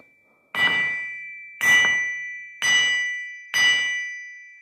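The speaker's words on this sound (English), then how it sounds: "Absolutely love the sound of an anvil." An old anvil in an abandoned castle struck four times at a steady pace, each hit a loud, bright metallic ring that rings out and fades before the next blow, close and clear with no talk.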